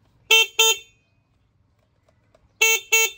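Horn of a SYM Bonus motorcycle sounding two quick loud beeps, then after a couple of seconds of near silence another matching pair of close honks.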